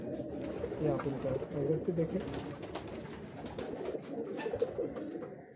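Pigeons coo repeatedly from a Lahore rooftop, soft throaty calls layered close together beneath someone talking over them.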